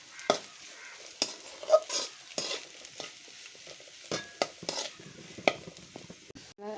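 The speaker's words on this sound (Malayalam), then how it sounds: "നമ്മുടെ സവാള ഇപ്പോൾ ഒരു 1/4 വഴണ്ട് വന്നിട്ടുണ്ട്." Onions sautéing in a pan for a catering-style chicken curry, a steady close sizzle broken by repeated scraping stirs of the spoon every half second or so, with no talk.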